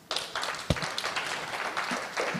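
Audience applause at a talk on sustainable technology-based economic development, with a moderate, steady patter of clapping that runs for a couple of seconds after a sharp early clap.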